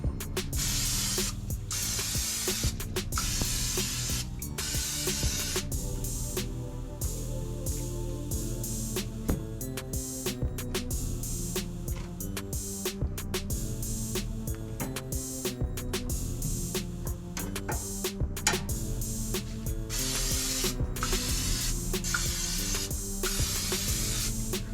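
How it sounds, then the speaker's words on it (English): Butter sprays in short repeated hissing bursts onto smoked thick-cut pork loin chops on a smoker, close and crisp, with brief pauses between pumps. "before I went ahead and sprayed this with butter"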